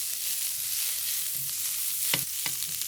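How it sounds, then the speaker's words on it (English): Onions brown in a pan for shrimp curry, giving a steady close sizzle and frying hiss throughout, with a few faint stirring knocks near the end. "Try to kind of browning them first so you get the onion flavor out easier."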